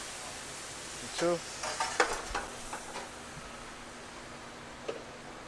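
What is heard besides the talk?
white wine deglazing a sizzling jambalaya pan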